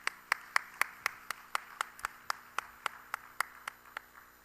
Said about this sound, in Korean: 큰 또 축하와 박수를 한번 보내줬으면 좋겠습니다